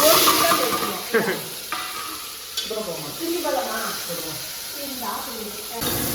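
Shallots, curry leaves and tomato sizzle and hiss as they fry in a cooker, with occasional stirring scrapes, while voices talk over the cooking throughout.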